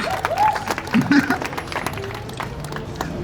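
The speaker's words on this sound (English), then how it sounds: "Yes, give yourselves a round of applause." A festival crowd at a poetry performance breaks into applause, a dense burst of clapping mixed with cheering voices that peaks early and then thins out.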